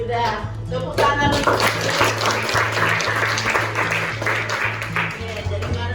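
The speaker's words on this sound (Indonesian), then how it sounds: "Tepuk tangan." Students in a classroom break into a burst of hand clapping, loud and close, lasting several seconds, with voices talking over it and a steady low tone underneath.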